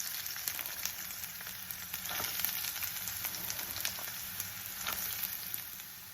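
Carrot pieces frying in a pan with garlic and curry leaves give a steady, close crackling sizzle with small pops, continuous and alone with no voices.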